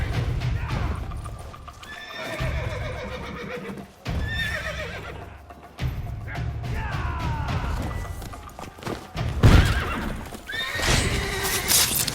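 Several horse whinnies in The Witcher 3: Wild Hunt rise and fall over a busy scene with hooves clopping and a voice or two shouting beneath them.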